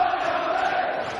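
A darts crowd cheering for Barneveld at the Grand Slam of Darts, a steady distant roar of massed voices filling the short moment.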